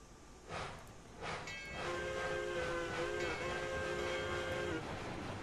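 A train in the Railroads Online game starts to move, with a whistle or horn tone sounding steadily over rumbling rail noise that swells as it gets underway.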